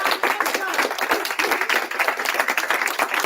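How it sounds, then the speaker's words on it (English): Audience applause at a Scientology graduation ceremony, brisk dense clapping with a few voices mixed in, loud and steady throughout. "let's give a special applause to L. Ron Hubbard"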